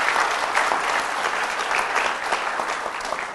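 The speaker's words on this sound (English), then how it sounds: "Please give her another round of applause." Steady, dense applause fills an audience hall at a university Founder's Day convocation, loud and continuous throughout with no breaks.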